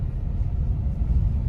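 Road traffic near Bhimtal lake passes as a continuous low rumble, heard from inside a Hyundai Venue Facelift car on the way to Nainital, steady and fairly loud with no talk.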